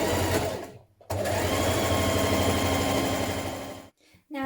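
Close and loud, a sewing machine runs fast and even while stitching a 1.5 centimetre seam on a cardigan, breaking off with two short pauses.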